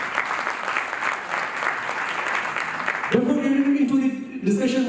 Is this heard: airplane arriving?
no